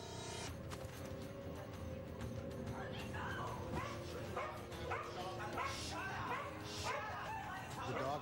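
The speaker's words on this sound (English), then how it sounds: "The dog became very aggressive toward him, and Kaycee said" An aggressive dog barks repeatedly in short, sharp bursts, fairly quiet and mixed with other background sounds.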